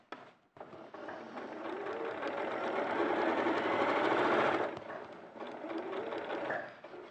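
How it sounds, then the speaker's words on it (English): A sewing machine topstitches a line one centimetre from a fabric edge, whirring steadily and loudly for several seconds, pausing briefly, then running again before stopping, with no speech. "And I top stitch that 1 centimetre from the edge along the top."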